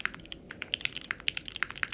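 Close, crisp typing on an aluminium mechanical keyboard with tape mod, clacky and poppy in character, keystrokes landing in a quick, fairly even rhythm.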